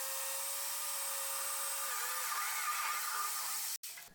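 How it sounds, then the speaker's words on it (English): A power drill pre-drills screw holes in a catamaran hull, a steady high whine running close and loud for nearly four seconds before cutting off abruptly, then a brief restart. "Pre-drill for the screws"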